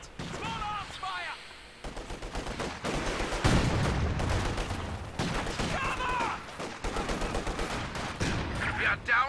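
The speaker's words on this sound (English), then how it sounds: "Contact! Small arms fire!" Small arms gunfire in the real-time strategy game Company of Heroes 2, with dense bursts of rifle and machine-gun fire crackling through a busy battle mix, overlapping other combat sounds and occasional in-game voice callouts.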